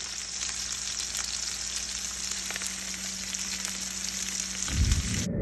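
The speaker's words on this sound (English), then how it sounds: "Just listen to that sizzle." Pork chops sear in a frying pan with a loud, continuous sizzle and crackle throughout, ending with a short low thump of the pan being handled.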